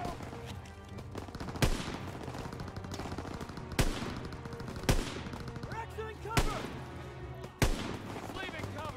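Machine gun fire in the World War II video game Call of Duty WWII, sharp loud bursts about every two seconds over continuous battlefield din, with game character voices shouting among the shots.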